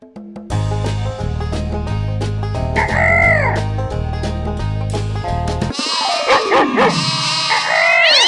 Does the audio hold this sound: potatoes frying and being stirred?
no